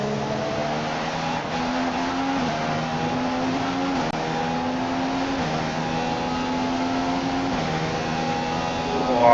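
Formula One cars in the racing game F1 2015 at the British Grand Prix, a continuous high engine whine shifting through gears as cars battle for position, steady and prominent with a commentator speaking over it.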